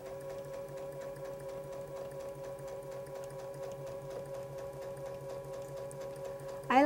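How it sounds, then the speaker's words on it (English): A sewing machine stitches quilt fabric for a Star Power quilt, a steady, fairly quiet mechanical whir with rapid even stitching throughout, ending in a brief sharper sound. "I like to work with 2 anchor cloths at the sewing machine at all times"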